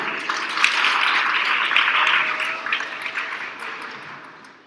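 Warm, sustained applause for a visiting Parliament communications team at a schools debate championship final, a dense wash of clapping that gradually fades toward the end.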